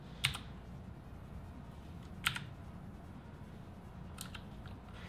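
Typing on a HyperX Alloy FPS mechanical gaming keyboard: three separate sharp clacky keypresses spaced roughly two seconds apart, close and fairly quiet over a soft room hiss, with no talking.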